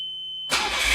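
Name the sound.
Nissan Figaro engine starting after new engine mount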